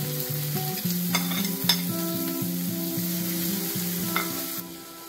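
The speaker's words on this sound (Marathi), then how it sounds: "बटरवर आता आपण कांदा आणि कॅप्सिकम भरून परतून घ्यायचे आहे" Sliced onion and capsicum sauté in butter for tomato rice, a steady close sizzle with a few stirring clicks, running under a clear melodic music track and no speech.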